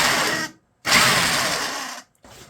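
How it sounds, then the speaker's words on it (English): A power drill with a 4mm bit bores into a plastic PC case front panel in two close bursts of high whirring, separated by short pauses. "I'm using a 4mm drill bit"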